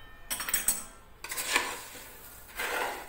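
A spoon scrapes and clinks against a pan while diet chivda with curry leaves is tossed, in short bursts of metallic rattling and scraping separated by brief pauses, fairly close.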